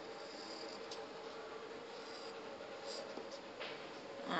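A pen drawing a fish's eye on a card, faint close scratchy strokes over a quiet hiss, with a few brief squeaky marks near the end.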